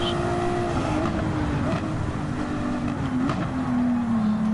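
A stock car on hard tires driving in Gran Turismo 7, a steady loud engine drone with a sustained tone that shifts gradually in pitch as the car cruises along.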